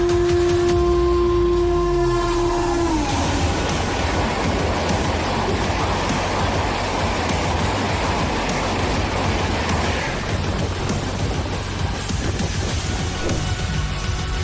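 A train travelling at around 95 miles per hour roars past the tracks in a loud, steady broadband rush, with a brief whistle-like tone fading early on.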